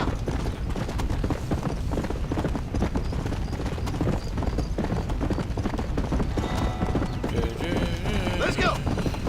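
Horse hooves clip-clop at a steady gallop in Red Dead Redemption: Undead Nightmare, a dense, continuous rhythm running throughout with game sounds layered over it, while someone talks over the hoofbeats.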